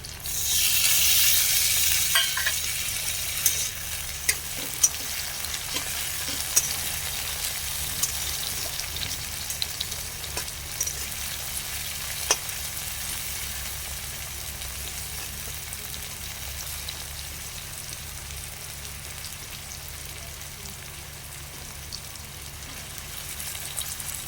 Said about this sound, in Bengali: এটা একটু ভাজা ভাজা হয়ে গেছে